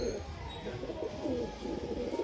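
Low, soft cooing from a black-eyed breeding pair of high-flying pigeons, a steady murmur of repeated coos close by with faint background noise.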